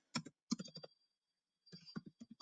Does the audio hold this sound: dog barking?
no